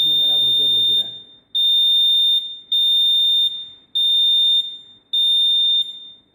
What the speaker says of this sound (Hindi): आउटपुट में मेरा बजर बज रहा है।